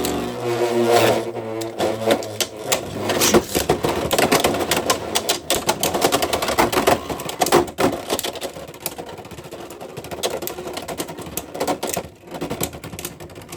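Beyblade X tops Pegasus Blast and Meteor Dragoon clashing in a stadium, a rapid stream of hard plastic clicks and rattling collisions over a constant whirring spin, loud and up close.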